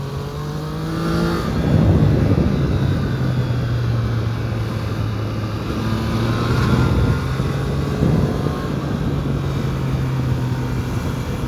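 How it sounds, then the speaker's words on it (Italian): Steady engine drone of a Triumph Tiger 660 Sport motorcycle, just over 80 horsepower, heard from onboard, with rising and falling revs and rushing wind noise throughout. "E allora, come si muove questa piccola moto sportiva?"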